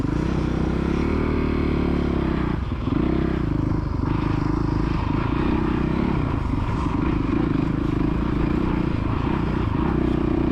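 A kids' motocross bike revs steadily on the main track at Astley MX, its engine a loud, continuous drone that rises and dips slightly without letting up.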